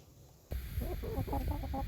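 Chickens cluck in a backyard coop near the roosting bars, a run of short, rhythmic clucks close by that begins abruptly after a half-second of quiet hiss.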